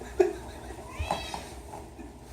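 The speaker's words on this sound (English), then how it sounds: "Sorry, my cat's meowing." A pet cat meows indoors, a short close mew rising out of a quiet room, followed by a second fainter cry, with a person's voice faintly present in the background.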